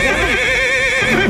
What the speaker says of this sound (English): They hear some horse sounds